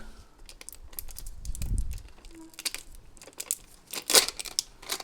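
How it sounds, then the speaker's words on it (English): Plastic wrap being peeled off a new oil filter for a Kawasaki Ninja 400 motorcycle, heard as close, intermittent crinkling and tearing rustles with a louder burst near the end. "We're gonna remove the plastic."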